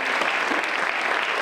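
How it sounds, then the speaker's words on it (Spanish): Brief burst of audience applause at a Mexican cultural event, many people clapping together in a steady, dense roar with no voices on top. "un fuerte aplauso para el licenciado"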